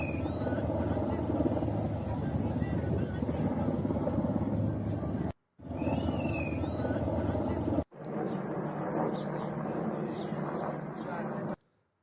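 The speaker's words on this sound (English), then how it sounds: "This is again footage of helicopters being refueled in the air so they could continue this rescue operation." Helicopters being refueled in midair during a military rescue operation after US planes were downed over Iran, heard as a loud, continuous broadband engine and rotor roar that cuts off abruptly twice.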